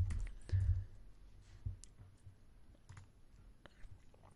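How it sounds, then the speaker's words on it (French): Soft clicks of a computer keyboard being typed on, with a few scattered keystrokes and quiet taps against a near-silent background. "Ici, je commence à taper."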